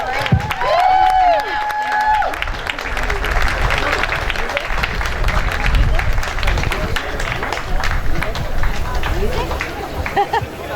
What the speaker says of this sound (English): another round of applause and thank you to our speakers